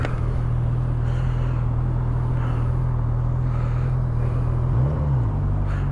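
Honda CB1000R motorcycle engine idling as the rider works the clutch, a steady low rumbling drone that briefly swells in revs near the end, close and alone.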